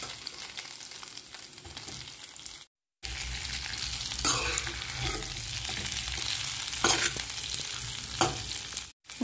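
Mustard seeds, cumin and coriander sauté in hot oil in a pot for a Marathi rice-flour breakfast, giving a steady, close crackling sizzle with scraping stirs and two very brief silent gaps, no voices.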